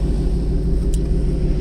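A 2018 Mustang GT with a free-flowing Borla S-Type exhaust gives off a deep, steady rumble, loud and unbroken for under two seconds with no voices.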